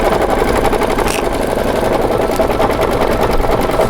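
A Baby Lock embroidery machine stitching a design, its steady rapid mechanical whir and needle chatter running continuously, loud and close with no talking.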